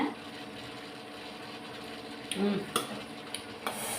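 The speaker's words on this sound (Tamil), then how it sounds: "இப்போ இதெல்லாம் போட்டு ஒன்றா மிக்ஸ் பண்ணிப்போம்" Ingredients stirred together in a cooking pot on a stove as the mixture thickens, with soft scraping and a few sharper clinks of a utensil against the pot near the end.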